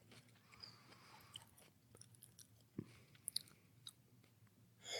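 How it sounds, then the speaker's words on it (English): Close-miked chewing of food, with soft wet mouth sounds and a few sharp crunchy bites standing out against a quiet background. "I'm going to let you finish chewing that"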